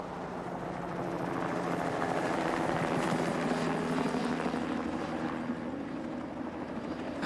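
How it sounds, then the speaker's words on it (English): A helicopter flies close by in the 1985 TV drama Edge of Darkness, a loud, steady rotor and engine roar that holds for several seconds without a break. "it was lost in the noise of the helicopter"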